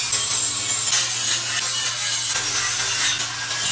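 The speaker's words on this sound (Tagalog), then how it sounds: "nilinis nga lang niya ito gamit nga itong kanyang grinder." A grinder cleans a steel tubular stair railing, producing a loud, steady, abrasive hiss and rasp that continues close up without a break.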